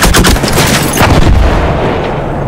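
Loud gunfire from the video game Battlefield 1 rattles off in a fast burst of close, overlapping shots that trail into a decaying rumble, with no talking over it.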